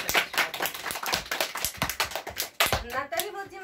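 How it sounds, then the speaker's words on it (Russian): Audience applause at a literary competition award ceremony comes as scattered, uneven claps with distinct individual hand strikes. A voice is heard toward the end. "Наши громкие аплодисменты."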